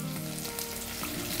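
Onion frying in a pan, a steady close sizzle and crackle of hot oil that runs unbroken throughout with no voices.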